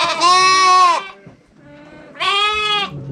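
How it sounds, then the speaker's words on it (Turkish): Two loud, close bleats from a lamb in a dark barn, each about a second long and wavering, separated by a brief quieter pause. "Burada kuzular var"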